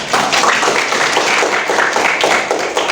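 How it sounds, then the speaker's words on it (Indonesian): Students in a classroom during a geometry lesson clap together in a dense, steady burst that holds for a few seconds, close and fairly loud. "Tepuk tangan untuk teman-teman."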